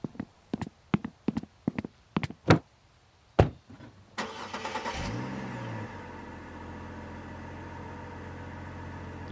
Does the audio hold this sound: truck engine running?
yes